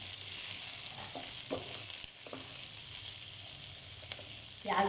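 Garlic, spring onions and chopped vegetables sauté in a hot pan for a Manchurian dish, giving a steady, loud sizzle throughout with a few soft scrapes and clinks of stirring.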